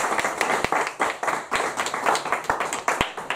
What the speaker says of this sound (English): join me in giving him a round of applause for encouragement